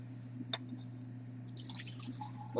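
Water drips and trickles onto a sand erosion ramp raised to 15 centimeters in an earth science experiment: a single clear drip, then soft splashy trickling, over a steady low electrical hum, ending with a louder splash.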